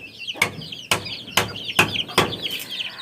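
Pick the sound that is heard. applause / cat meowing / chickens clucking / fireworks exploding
chickens clucking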